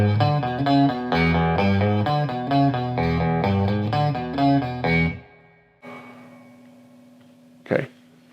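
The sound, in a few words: Telecaster electric guitar, neck pickup, played close to bridge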